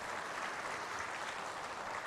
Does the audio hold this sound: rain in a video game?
no